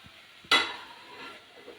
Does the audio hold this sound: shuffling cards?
no